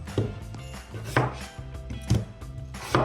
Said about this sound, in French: Maintenant, on va juste les couper en 4 pour qu'elles cuisent plus rapidement.